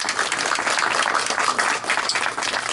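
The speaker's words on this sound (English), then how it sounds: "So a round of applause for Ms." An audience at an evening political gathering applauds, with dense continuous clapping from many hands at steady loudness.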